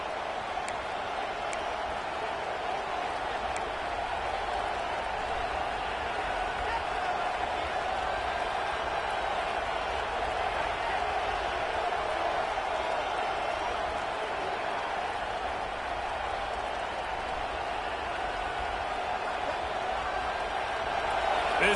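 Stadium crowd roaring in a college football video game, a steady, dense wall of cheering and applause that holds through a goal-to-go play, with a commentator talking over it.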